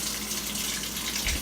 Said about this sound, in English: All right, we're going to go ahead and turn this on and see what we got.